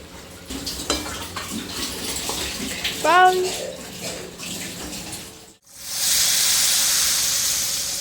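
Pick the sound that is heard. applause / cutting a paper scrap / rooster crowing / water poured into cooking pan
water poured into cooking pan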